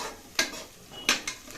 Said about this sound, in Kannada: ನೋಡಿ ಈ ರೀತಿಯಾಗಿ ಫ್ರೈ ಮಾಡ್ಕೊತಾ ಇದ್ದೀವಿ.